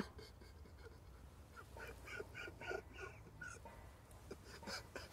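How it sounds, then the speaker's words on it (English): A duck quacks several times in a quiet outdoor setting at a carp fishing spot, the calls faint and somewhat distant over a low background hum, with no talking. "Oh, this duck."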